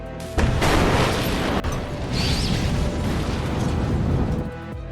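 A loud, rumbling blast with a sharp onset, then a sustained roar of crashing debris that fades at the end.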